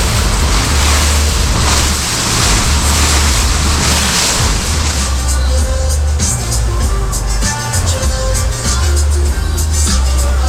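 Strong wind roars across open water near Rottnest Island, with waves and rushing spray blending into a loud, steady wash of noise.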